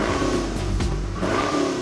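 A supercharged 2010 Camaro SS V8 small block fires up with a loud, close, steady rumbling roar that swells slightly, no talk.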